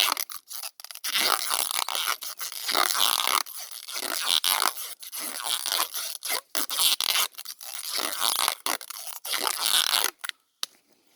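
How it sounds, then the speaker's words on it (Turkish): Tape is pulled and stretched around an olive tree graft, giving repeated close scraping, crinkling bursts with short pauses between pulls. "Kimisi ip de bağlıyor arkadaşlar. Yani sıkıntı yok ama ben genelde bantlıyorum."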